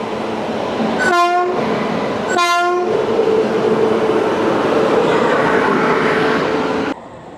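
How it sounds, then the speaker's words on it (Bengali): The Himgiri Express, running from Howrah toward Jasidih Junction, sounds two loud blasts of its horn over a constant roar of the moving train, which drops off sharply near the end. "এই হিমগিরি এক্সপ্রেস হাওড়া থেকে জম্মু-তাওয়াইয়ের মধ্যে টোটাল 2021 কিলোমিটার পথ অতিক্রম করে"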